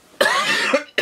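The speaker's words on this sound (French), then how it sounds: "Cette toux ne veut pas partir." Two harsh, forceful coughs from a woman close to the microphone, the first longer and raspier, followed by a third starting at the very end; a lingering cough.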